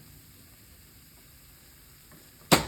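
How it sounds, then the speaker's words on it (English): Garlic hits a hot pan already seasoned with salt and pepper for a biscuits and gravy sauce: near silence, then one sudden loud, close sizzle bursts up right at the end. "we're gonna throw some garlic in there"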